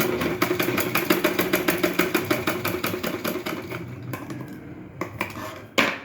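A domestic sewing machine stitching both sides of a blouse sleeve, rapid rhythmic mechanical clatter that runs steadily then slows and stops, followed by a few handling knocks.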